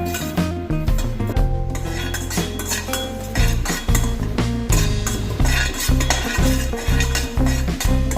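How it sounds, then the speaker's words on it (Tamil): Curry leaves are dry-roasted in a pan for rasam and stirred hard, producing loud repeated metallic scrapes and clinks of a spatula over a light sizzle, close up against a steady tonal background. "கருவேப்பிலை ட்ரை ஆகுற வரைக்கும் நல்லா வறுத்துக்கோங்க."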